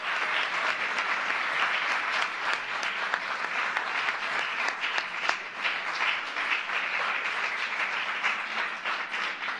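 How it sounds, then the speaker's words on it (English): Sustained applause from a large audience at a judicial confirmations celebration honoring senators, a dense even roar of many hands clapping, slightly distant and unbroken. "They deserve a round of applause."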